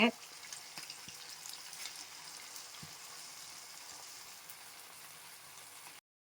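Rava masala bonda frying in a wide pan of hot oil: a soft, steady sizzle and bubbling hiss runs quietly and evenly throughout, with a few faint clinks, then cuts off abruptly.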